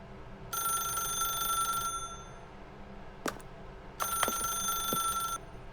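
Telephone ringing in The Stanley Parable video game: two sustained electronic ring bursts, each about a second and a half, separated by a short quiet gap with a couple of faint clicks, clear and close.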